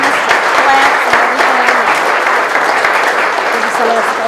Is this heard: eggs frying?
no